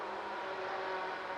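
A race car in the iRacing sim at Daytona during a 24-hour endurance race whirs steadily as it runs alongside, a continuous engine drone with no voices.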